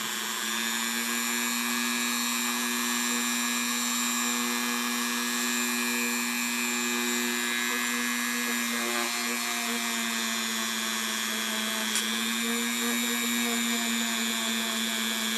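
A Dremel rotary tool buffs gold jewelry with compound, a steady high-pitched whine that runs continuously and stays close, with slight changes in pitch as pressure shifts.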